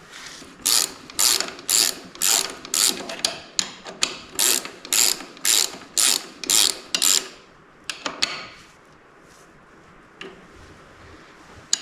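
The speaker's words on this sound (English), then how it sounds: "Tighten it up. Not too tight, it's an aluminum, so call that good." Ratchet wrench tightening an aluminum fitting on a Nussbaum HEL7000 lift: a close, loud run of about fifteen rapid clicking bursts in steady rhythm, then a few scattered softer clicks and faint handling noise with no talking.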